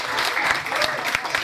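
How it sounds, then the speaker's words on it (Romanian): Audience applause for dance couple number 5 at the Positive Day Sibiu 2014 event: steady, dense clapping from a crowd that carries through the whole moment, with a little voice mixed in underneath. "Felicitări și aplauze! Aplauze perechi cu numărul 5."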